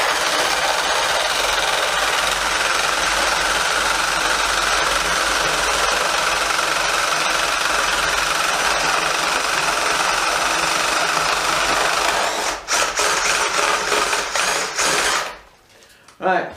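RYOBI R18QS Quiet Strike cordless impact driver working through decking, a steady loud whirring hammer buzz lasting about twelve seconds before stopping with a few rattles, then near silence.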